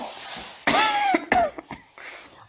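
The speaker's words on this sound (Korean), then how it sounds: "그 기침 소리가 심상치 않은데 병원에는 가보았나요?" A persistent, deep cough from a woman in a church Christmas play, two harsh wet bursts with rasping tails, fairly close, followed by quieter breathy sounds and faint background murmur.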